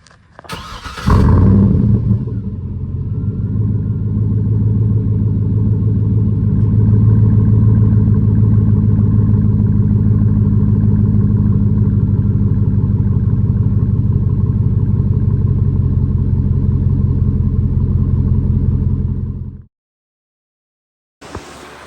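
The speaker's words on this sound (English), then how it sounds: "Has an amazing exhaust system on there." A 2008–2013 Chevrolet Silverado or GMC Sierra pickup with an aftermarket exhaust fires up and idles loud and close in a deep, steady rumble for nearly twenty seconds before cutting off abruptly into silence.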